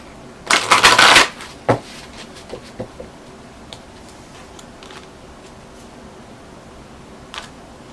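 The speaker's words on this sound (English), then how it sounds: "One more shuffle." A short burst of tarot cards being shuffled, followed by a few soft taps and clicks, then near silence.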